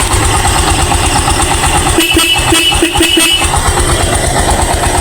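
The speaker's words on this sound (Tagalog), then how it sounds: "pakinggan nyo mga idol yung busina oh" Horn of a Yamaha YTX 125 motorcycle honking loudly and close, a steady blaring tone sounding over the running engine, with a choppy burst of honks in the middle.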